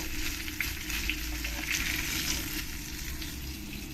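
Pieces of katla fish frying in hot oil, a continuous close crackling sizzle with small pops, steady and alone without any talk.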